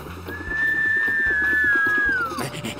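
A single sustained, clear whistle tone holds steady for about two seconds before sliding downward at the end, in a cartoon about trains, over faint background music.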